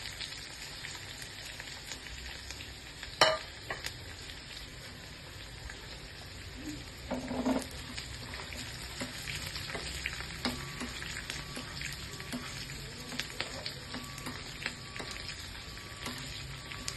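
Onions and curry leaves frying in oil for an Andhra-style brinjal poppu, a steady soft sizzle with a brief clatter early on and a small stir partway through, no voices.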